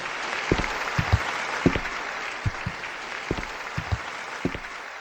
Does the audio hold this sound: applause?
yes